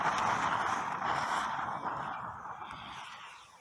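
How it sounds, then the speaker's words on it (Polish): Fizzing, bubbling hiss of water churned by cold sparklers burning underwater, a dense steady sizzle that gradually fades toward the end. "Woda się gotuje."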